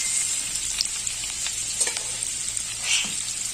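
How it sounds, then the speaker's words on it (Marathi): Garlic tempering sizzles steadily in oil, close up with a bright crackling hiss, a few sharper pops rising through it, and no voices. "लसणाची फोडणी द्यायची"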